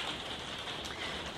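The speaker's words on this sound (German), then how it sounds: "auch auf Mallorca regnet es mal und ich sitze hier im Wintergarten, deswegen könnte man das bisschen hören" Rain patters on a conservatory roof on Mallorca, a steady, even hiss of drops close by with no voices.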